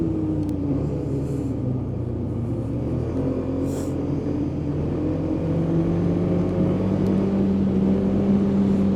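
A 2024 Polaris Indy Adventure 137 snowmobile with a Pro Star S4 four-stroke engine rides along an ungroomed trail. Its engine drones steadily and close up for the whole stretch, with shifting rumbling tones and no talk.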